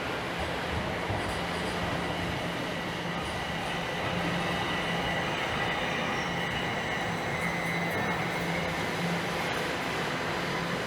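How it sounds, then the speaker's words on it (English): A southbound Line 1 subway train rumbles into Toronto's Davisville Station, wheels grinding and faintly squealing along the rails in a steady, enveloping roar. "as a southbound Line 1 train rolls in."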